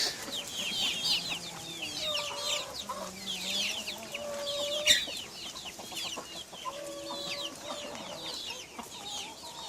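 Several backyard chickens, with chicks nearby, cluck softly and continuously while eating bread, with scattered higher chirps and squawks overlapping at a close, moderate level.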